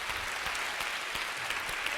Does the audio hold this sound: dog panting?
no